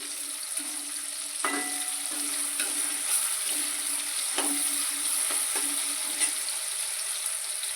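Fenugreek greens and tomato sizzle in a pan while being cooked down, giving a constant bright frying hiss with occasional soft scraping stirs, close and steady throughout.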